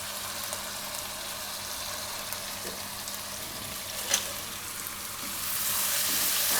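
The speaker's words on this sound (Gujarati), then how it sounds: "હવે એમાં નાખી દઉં આપણે આ ટમેટાં." Tomatoes hiss and sizzle in a pan of hot oil with onion and spices, a steady close frying sound with faint stirring scrapes that swells louder toward the end.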